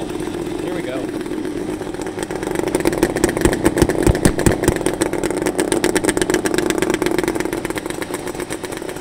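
A motorcycle engine idles steadily nearby with a rough, pulsing chug that briefly picks up in the middle before settling back to a constant idle.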